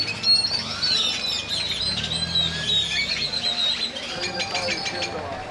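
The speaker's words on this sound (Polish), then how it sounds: "wszystkie ptaki w okolicy się aktywowały właśnie" Many birds chirp and twitter continuously at sunset in El Salvador, a lively outdoor chorus with a faint low hum and occasional voices underneath.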